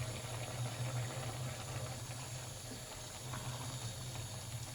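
Rice water boiling in a covered pot for chicken pulao, a steady close hiss and bubbling rumble that stays even throughout, with no voices.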